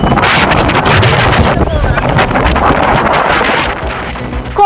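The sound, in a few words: dust-laden wind blowing in Poonamallee near Chennai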